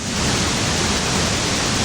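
Tarawera Falls, a 65 m waterfall near Kawerau in New Zealand's Bay of Plenty, bursts out through rocks with a loud, steady, unbroken roar of rushing water and no other sound.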